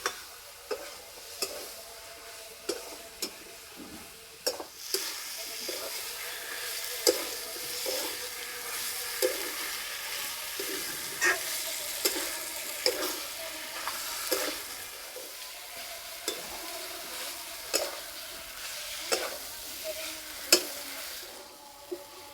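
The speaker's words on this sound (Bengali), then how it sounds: "কষানোর সময় সবসময় এভাবে নাড়তে হবে, নাহলে তলাতে লেগে যাবে" A spoon stirs chicken curry in a red gravy cooking over low heat in a pan, giving a steady soft sizzle broken by regular scraping knocks against the pan bottom, close and continuous with no talking.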